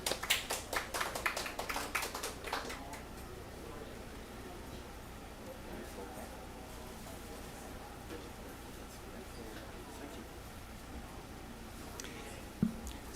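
Conference audience applauding to welcome a speaker: a burst of clapping over the first few seconds that fades into quiet room tone, with a faint bump near the end.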